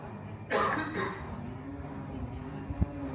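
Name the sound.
coughing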